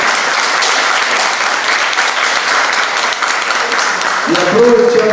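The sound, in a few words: audience applause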